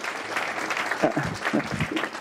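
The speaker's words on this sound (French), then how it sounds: "allez-y, applaudissez-les bien fort" Applause from an audience at a reading gathering in Toulouse, fairly soft and somewhat distant, with a voice speaking faintly underneath.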